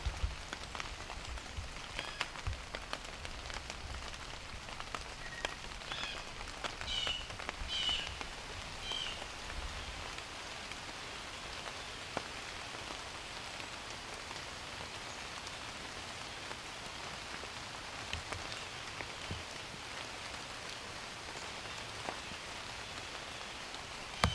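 Steady rain falls by a river, a soft continuous patter with occasional louder drops, fairly faint and even, with no voices.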